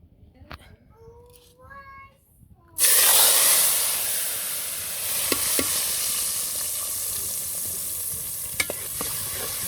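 Spices hit very hot oil with a sudden loud burst of sizzling that settles into a steady hiss with occasional stirring clicks, after a few seconds of quiet kitchen sounds.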